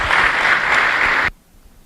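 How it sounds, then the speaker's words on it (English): An audience claps for the exhibitors in a senior drive at a youth fair goat show, a dense burst of applause that stops abruptly after about a second and a quarter, leaving quiet room tone. "let's give all of these exhibitors in this senior drive big round of applause"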